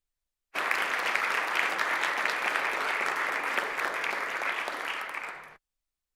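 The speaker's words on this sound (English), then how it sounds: "So a round of applause to everybody who played in the game." Sustained applause fills a legislative assembly chamber during a floor session, a steady broadband wash of many hands that starts abruptly, holds evenly for about five seconds, then cuts off.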